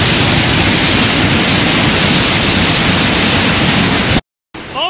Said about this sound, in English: This is right behind the waterfall.